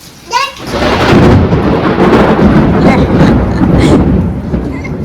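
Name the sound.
thunder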